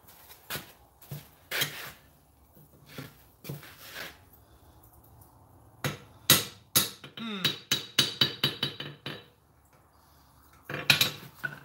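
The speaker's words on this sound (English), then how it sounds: "that's the bulk of the heavy hammering for the main shape of him" Heavy hammer blows on hot metal while forging a dragon sculpture at an anvil, loud close strikes in uneven bursts, then a quick run of rapid ringing blows and a few more hits, with brief pauses between.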